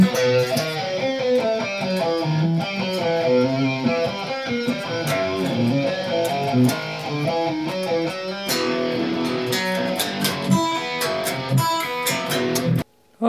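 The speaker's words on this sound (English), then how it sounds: "A lot of people have been asking me when I'm going to be able to actually play this guitar." A fully 3D printed electric guitar is played through amplification with dense, distorted strummed chords and picked notes, loud and close, continuous until it cuts out abruptly near the end, with no talking over it.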